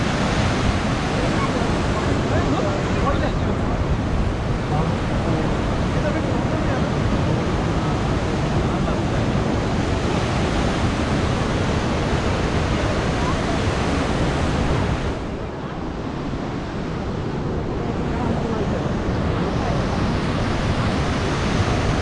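Huka Falls in New Zealand roars through a narrow volcanic canyon, a loud dense continuous rush of water with some wind buffeting the microphone, steady throughout with a slight dip near the end.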